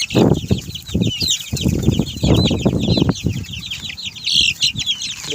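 Young chicks and chickens being moved into a small range pen, with dense high chirping and peeping throughout, close clucking and fluttering wing flaps, and low-level handling noises underneath.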